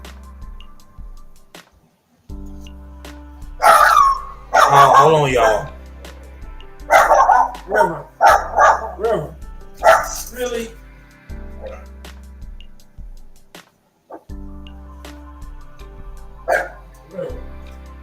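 An indoor dog barks in loud, sharp bursts, several yips and woofs spread across the stretch, interleaved with a person talking to the dog and trying to settle it, with quieter gaps between outbursts.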